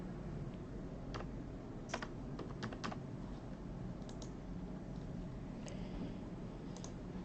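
Computer keyboard keys tapped in short irregular bursts, a few quick clicks at a time with pauses between, faint and close over a quiet room hum.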